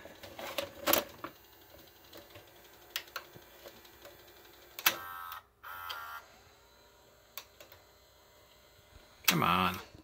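Clicking, whirring mechanism noises from a malfunctioning JVC HR-D337MS multi-region VCR, with scattered clunks and ticks and a louder mechanical clatter near the end, heard close up under faint background hum.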